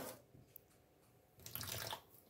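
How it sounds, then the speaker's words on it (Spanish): Water poured from a faucet-like stream into a bowl of arepa dough mix of cornmeal and salt, a faint trickling that swells into a brighter splashing rush near the end, quiet and close with no talking. "ahora sí, le echamos agua"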